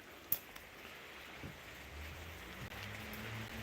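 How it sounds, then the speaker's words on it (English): Soft, steady rain falls outdoors as a faint, even hiss with a low background hum and an occasional small tap. "Fucking rain."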